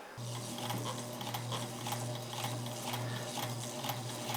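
Sewing machine running a short stitch, a steady close mechanical hum with rapid needle clatter throughout, no talk.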